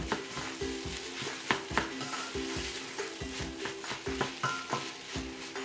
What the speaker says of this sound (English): When you mix it, try to do it like I'm doing, slicing motion.